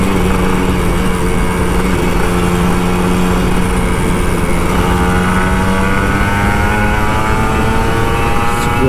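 Kawasaki Ninja RR 150 two-stroke motorcycle engine revs hard and loud and close, a buzzing drone that rises in pitch midway as the throttle opens, with steady wind and road noise.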